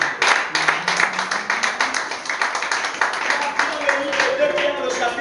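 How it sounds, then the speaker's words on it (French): A church congregation claps loudly and steadily in a dense, continuous round of applause, with voices and cheers mixed in throughout. "J'aimerais qu'on acclame très fort la parole de Dieu."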